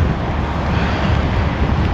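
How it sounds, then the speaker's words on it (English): Strong wind buffeting a truck driving through snow, a loud, constant low roar and rumble with no breaks. "It's just snowy and windy as fuck."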